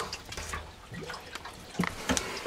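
Antifreeze drains from a Dutchmen RV water heater, producing irregular drips and small splashes of liquid, fairly faint and close, with scattered patters over a quiet background.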